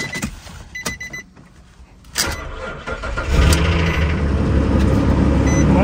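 A car at an auction yard cranks and starts on a jump box, rough at first and then settling into a steady idle; a few clicks and brief whirs come before the engine catches, close and loud, with no talk.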